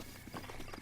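Horse hooves clip-clop in a quick, steady trot in Zelda: Breath of the Wild, soft and faint under a steady bed of game ambience.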